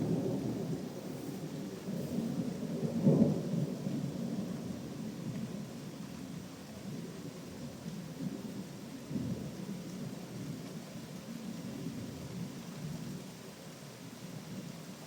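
During an isolated thunderstorm, a low rumble of thunder rolls in early on and fades slowly over steady rain. It is moderately loud with no voices.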